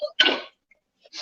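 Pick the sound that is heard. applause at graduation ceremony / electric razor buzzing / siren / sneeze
sneeze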